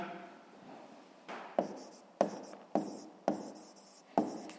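Pen or chalk writing out a sixth-grade math solution, heard as a run of scratchy strokes with sharp taps at the start of each, close and fairly loud, with no talking.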